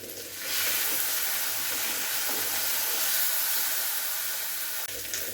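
Garlic paste and whole cumin seeds hitting hot oil for a bottle gourd and shrimp dish, a sudden loud steady hiss and sizzle that starts after a brief pause and continues unbroken.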